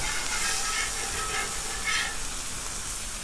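Thin bacon sizzling in a hot pan, a steady dense crackling hiss that carries on evenly at moderate volume with no one talking.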